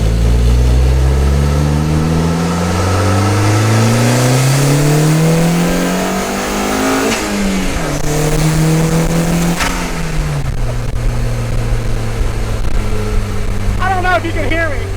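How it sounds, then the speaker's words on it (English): A loud turbocharged 1.8 Audi engine swapped into a Porsche Boxster revs up and down repeatedly, rising and falling in pitch, with sharp blow-off valve whooshes between pulls, close by and continuous. "there's just something about the motor being right here and the blow off being right there"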